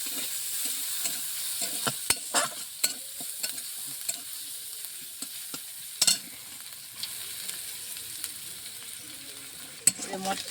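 Onions frying in a pan for a pointed gourd and shrimp dish, a steady soft sizzle with intermittent scraping stirs and clacks of a utensil, close and alone with no talk.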